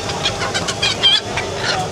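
Native roosters and hens at Joypara village market in Dohar, including Manikganj and Gheor birds, give short overlapping clucks and squawks close by over a busy background murmur.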